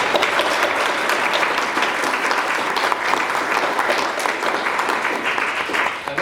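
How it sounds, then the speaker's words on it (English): An audience at the launch event for People4Soil gives the hosts a sustained round of applause, with dense, steady clapping filling the room from start to finish. "I'd like to give them a round of applause, please."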